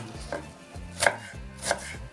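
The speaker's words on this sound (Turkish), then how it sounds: "Soğanlarımızı doğrama işlemi bitti." A knife chops onions against a cutting board in a few sharp, distinct strikes spaced over about two seconds, close by with low kitchen background noise.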